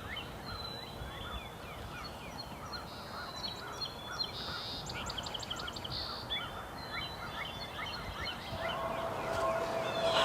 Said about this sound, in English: It was an exciting morning having those jakes come to within 17 yards of us, putting on a show, doing a little bit of gobbling.